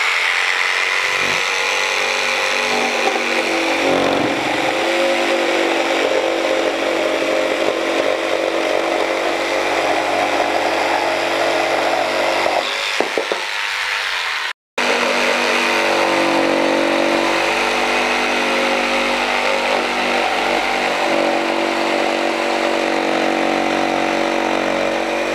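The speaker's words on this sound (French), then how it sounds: "Je vais la mettre au maximum, vous allez voir la différence." A Mafell P1CC jigsaw cuts continuously at maximum pendulum action with a loud, buzzing, rasping whine that briefly drops out near the middle before resuming at full intensity.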